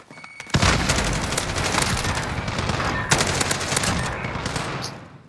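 A Holger gun fires in a video game, a sustained dense stream of rapid shots that begins abruptly, stays loud and close, and carries on for several seconds with a brief surge midway.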